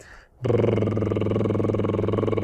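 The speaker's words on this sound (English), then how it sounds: "lip rolls basically sound like this." A singer doing lip rolls as a vocal warm-up, a steady buzzing trill of vibrating lips carrying a held pitch for about two seconds, close and loud after a brief quiet start.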